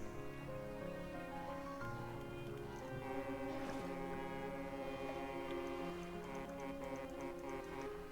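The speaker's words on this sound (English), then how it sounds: "I think the foghorn wards them off" A boat foghorn sounds in the fishing game Dredge, a long sustained low blast held steady across the whole stretch, fairly loud and alone with no talk over it.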